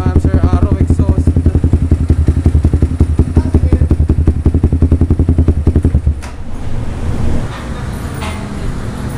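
A single-cylinder motorcycle with an aftermarket muffler thumps out a fast, even exhaust beat up close, then cuts off abruptly after about six seconds, leaving a soft background hiss.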